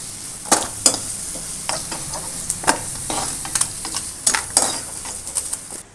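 Pieces of elephant foot yam sauté in a pan with a low, steady sizzle, broken by frequent sharp scrapes and clinks of a spoon stirring against the metal.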